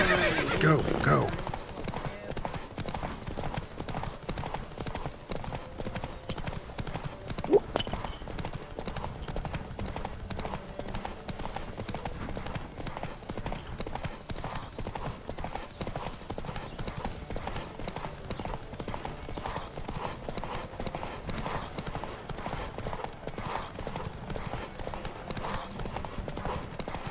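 Horses gallop in a race in The Witcher 3, steady rapid clip-clop hoofbeats running throughout with a neigh near the start, under quieter game voices.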